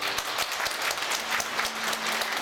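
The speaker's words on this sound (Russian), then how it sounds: "Ваши аплодисменты." Concert audience applauding a Khakass folk dance ensemble, a sustained, even patter of many hands with a faint tonal hum underneath and no voices.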